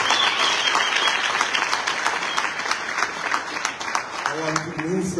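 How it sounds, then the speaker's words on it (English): An audience at a political gathering applauds a leader, sustained clapping that thins slightly midway, with a voice starting to speak over it near the end. "Can you all give him a hand of applause?"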